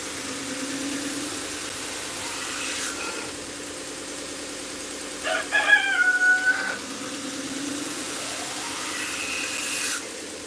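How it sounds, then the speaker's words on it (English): Roosters crow once, loud and drawn out, near the middle, over a steady low engine idling throughout. "the roosters are so annoying"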